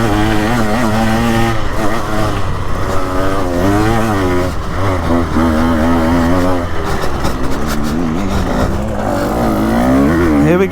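A KTM EXC 150 two-stroke enduro motorcycle on a sprint track howls loud and close, its engine pitch sweeping up and down repeatedly as it revs hard, drops off and climbs again through gear changes.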